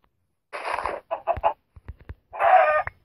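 A chicken in the video game ARK: Survival clucks in short, clipped bursts, a few quick clucks between two longer squawks, crisp and close with silence around them.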